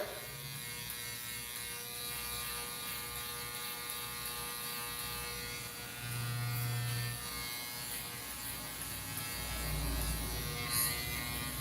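An Andis Master electric hair clipper buzzes steadily while cutting a boy's bald fade, a close, even hum that swells slightly louder midway.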